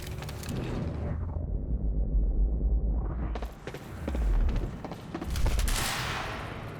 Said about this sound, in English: He's got one of those submachine guns.